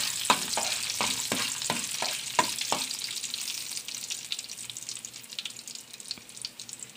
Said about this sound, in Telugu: ఇప్పుడు ఇందులో మనం మినపప్పు అనేది మనం వేసుకొని కలుపుకుంటూ మనం వేయించుకోవాలి